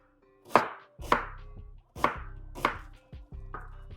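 A knife cuts through half an onion on a cutting board, five distinct, close chopping thunks spaced about half a second apart, each with a short woody knock.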